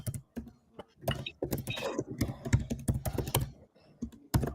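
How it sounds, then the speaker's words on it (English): Typing on a computer keyboard, close irregular bursts of clacking keystrokes with short pauses between runs, fairly quiet and with no talk over it. "I'll start typing that in"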